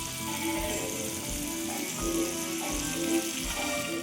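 Fish fries in hot oil in a home kitchen, a constant close sizzle with soft rhythmic thumps and brief bubbling bursts, no voices.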